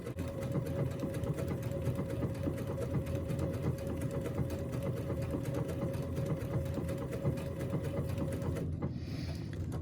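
A sewing machine stitches a bobbin work sample in a fast, steady mechanical whir with a constant hum, running close and continuously before stopping abruptly near the end.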